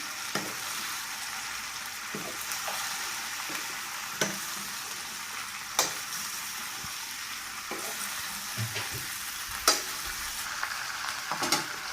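Okra tossed into a pan for a Gujarati potato and okra dish fries with a steady broadband sizzle and crackle, punctuated by occasional sharp pops and spatula scrapes, close and alone without voices.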